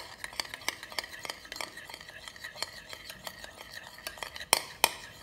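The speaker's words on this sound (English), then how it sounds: "I'm just going to give this a little mix." A spoon stirs whole wheat focaccia dough ingredients in a bowl, giving quiet, close, irregular scrapes and light clinks, with a couple of sharper taps near the end.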